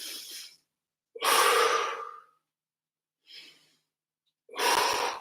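Deep, slow breaths during a stretching exercise: several loud, airy exhales and inhales come in separate bursts with short silences between, close to the listener and with no talking.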